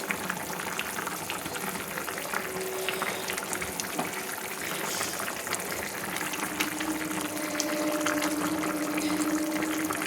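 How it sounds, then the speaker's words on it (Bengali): Fish curry broth with rohu-type bata fish, potatoes and cauliflower boiling in a pan, a steady close bubbling and hissing simmer that continues throughout without talk. "দেখুন ঝোলটা কি সুন্দর ফুটছে।"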